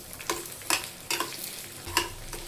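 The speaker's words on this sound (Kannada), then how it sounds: "ಇವಾಗ ಇದನ್ನು ಬಾಡಿಸ್ಕೊಳ್ಳೋಣ, ಕಲರ್ ಚೇಂಜ್ ಆಗೋವರೆಗೂ ಬಾಡಿಸ್ಕೊಳ್ಳೋಣ." Cumin and black pepper dry-roasting in a pan, stirred with a spoon in repeated short scraping strokes over a faint crackle, close up with no talk.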